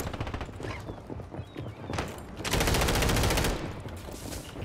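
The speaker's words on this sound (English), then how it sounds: "Are you shooting him down there? Yeah, I'm shooting through the windows." Video game gunfire through windows: rapid automatic bursts and scattered shots, rising to a sustained loud stream of fire near the end, with no talk over it.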